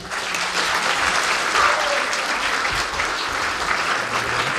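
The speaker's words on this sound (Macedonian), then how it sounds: "Ме молам еден аплауз на нив." Steady, sustained applause from a crowd at a first-graders' promotion event, loud and continuous throughout with no pauses.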